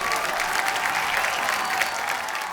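A studio audience on a comedy talk show bursts into dense, loud applause that continues without a break and has no talk over it.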